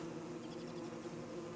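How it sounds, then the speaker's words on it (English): A swarm of killer bees in Don't Starve Together buzzing in a steady, faint hum that persists without a break. "Why are there these tons of bees?"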